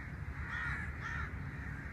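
Crows cawing on a mangrove island in Karachi, two harsh caws a moment apart, fairly faint and distant over a low background hum.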